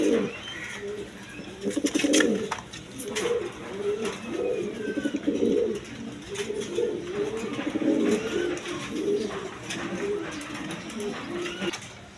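A pair of Danish pigeons in Andalusian colour coo repeatedly at close range, a low throaty rolling call that repeats in bursts, with faint clicks and background noise between calls.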